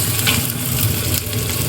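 Spice-marinated meat frying in a pan with browned onions, giving a dense, continuous sizzle that stays loud and close, with faint stirring scrapes and no speech.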